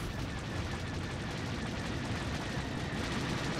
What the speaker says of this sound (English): So much laser fire.